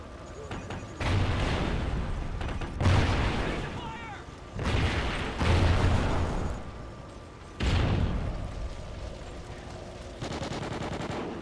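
Gunfire in a video game comes in repeated bursts of rapid shots separated by short gaps, moderately loud, while a player talks over the action.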